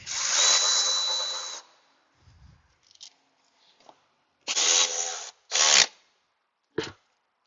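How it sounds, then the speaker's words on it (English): A small battery-powered Milwaukee drill spins an 8mm socket while working on a 2005 Jeep Liberty's air-conditioning system. It gives a loud opening whir lasting about a second and a half, then two more bursts and a brief final blip, with quiet handling noises between them. "Go grab my little battery powered Milwaukee, my 8mm socket"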